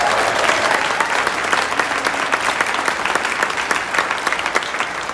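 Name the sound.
audience applause at a political rally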